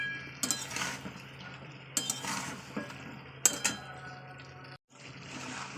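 A metal spoon scrapes and clinks against a pan while chicken is stirred and fried with spices for a home-cooked chicken curry, giving a few sharp taps over a low, steady background hum, with no talking.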